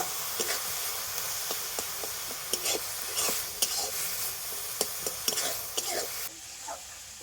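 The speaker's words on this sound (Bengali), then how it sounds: "ঘিয়ের সাথে সব কিছু কিন্তু আবার একটু ভালো করে এইভাবে নাড়াচাড়া করে নেব" Milk mixture stirred in ghee in a pan for fried milk dessert: a steady sizzle with repeated sharp scraping strokes of a spoon against the pan, close and clear, with no talking.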